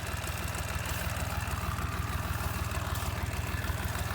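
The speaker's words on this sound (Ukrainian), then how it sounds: "бери трактора і вперед їдь косить" A tractor engine runs steadily while mowing boggy ground: a close, continuous mid-pitched drone with a fast, even throb and no pauses.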